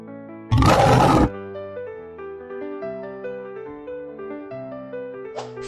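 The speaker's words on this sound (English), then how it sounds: "Lion." A lion roars once, a loud, rough, broad blast lasting under a second, set against cheerful piano-like music that continues underneath and after it.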